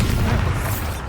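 A Confringo spell explodes in Hogwarts Legacy with a loud, deep rumbling boom that holds steady for about a second, heavy in the low end and without talk.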